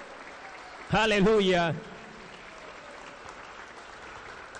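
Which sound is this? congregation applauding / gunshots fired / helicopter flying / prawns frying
congregation applauding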